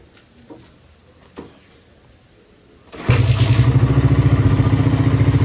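A long-neglected Suzuki Satria FU motorcycle starts on the first try. A few faint clicks and knocks lead into a sudden loud engine catch, then a close, steady, rapidly pulsing idle.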